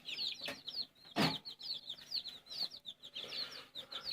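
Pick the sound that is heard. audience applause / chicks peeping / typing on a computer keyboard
chicks peeping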